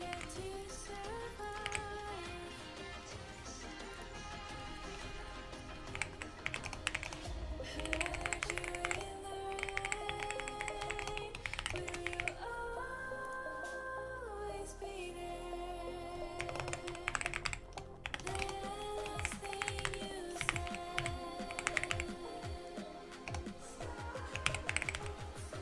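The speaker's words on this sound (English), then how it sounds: "He is typing." Rapid, uneven clatter of keys on a computer keyboard continues for the whole stretch, with bursts and short pauses, close and fairly loud, mixed with faint background music.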